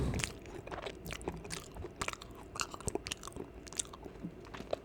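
Close-miked ASMR chewing with moist mouth smacks and crunchy bites, a run of soft irregular clicks and crackles over a quiet background, with no talking.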